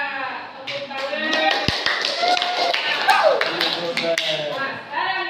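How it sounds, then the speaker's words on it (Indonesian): Children applaud in a classroom with a flurry of quick claps, fairly close and moderately loud, over several seconds, mixed with a teacher's and pupils' voices. "Tepuk tangan."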